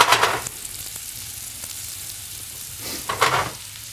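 Food fries in a hot pan while lamb in stout and honey is being cooked, giving a steady soft sizzle with two brief louder bursts of crackling at the start and near the end.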